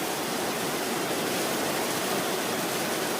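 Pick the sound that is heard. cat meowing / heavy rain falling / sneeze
heavy rain falling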